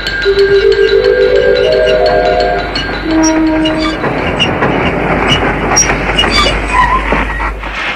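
A train rolls steadily along the rails with a loud, continuous rumble, a brief rising horn at the start and clattering wheels throughout.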